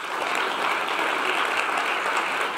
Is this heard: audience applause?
yes